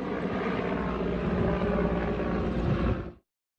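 Firefighting helicopters and airplanes work over a forest fire, giving a steady, loud, droning engine and rotor roar that holds for about three seconds and then cuts off abruptly.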